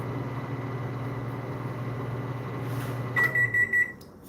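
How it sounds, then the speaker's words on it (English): A microwave oven hums steadily with a low drone, then gives a series of four evenly spaced beeps near the end as it finishes, close and alone without talk. "Stop, microwave."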